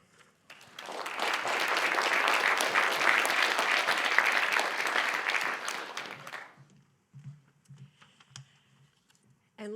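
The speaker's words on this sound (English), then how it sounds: "It was amazing to hear the clapping in the audience" An audience claps loudly and steadily for about five seconds at the close of a provincial candidates debate in Bay of Quinte. The applause then fades, leaving a quiet room with a few scattered soft bumps.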